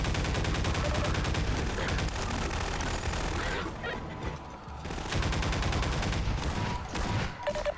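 Gunfire from a weapon in the shooter game Half-Life 2 rattles in dense, rapid bursts, loud and close, with a short lull before the shooting resumes.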